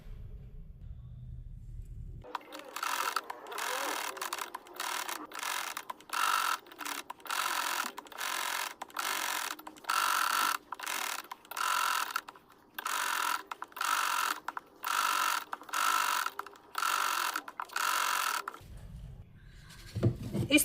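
Sewing machine stitching stiff buckram onto the back of a blouse, running in a steady series of rapid mechanical bursts separated by brief pauses, close and clear with no talking.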